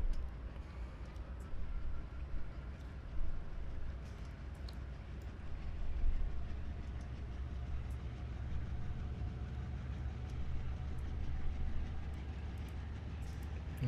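A Dash 8-40CW diesel locomotive hauling a stone freight train at night in the Train Simulator 15 game, a steady low engine rumble with faint rail clatter running continuously throughout.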